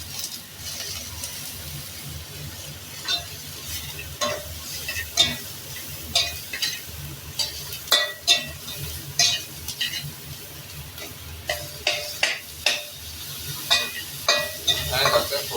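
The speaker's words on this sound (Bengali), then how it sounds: "টমেটোটা দিয়ে দিলাম, টমেটোটা এখানেই থেঁতা করে নেবো" Tomato being mashed and stirred with salt in a pan for a potato shrimp curry, steady sizzle under repeated sharp scraping and clinking strokes of a utensil against the pan, close and moderately loud.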